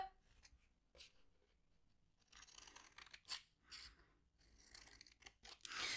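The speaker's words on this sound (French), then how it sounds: "Je prends ma paire de ciseaux." Scissors snip through scrapbooking paper while a square box with two flaps is made, giving a series of short crisp cuts with rustling as the paper is turned, close and fairly quiet.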